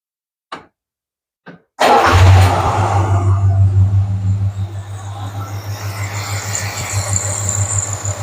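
A 1978 Plymouth Volare's 318 V8, freshly timed, gives two brief starter clicks, then cranks and catches within a second, settling into a loud, steady, rumbling idle with a faint rhythmic pulse close by.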